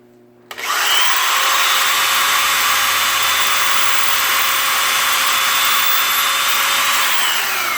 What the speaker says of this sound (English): Now we're going to drill on through.